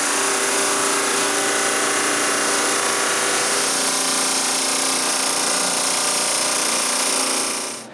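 A new power saw cuts through a piece of walnut wood for a clock frame, a loud, unbroken high whine that holds steady for the whole stretch and drops away only at the very end.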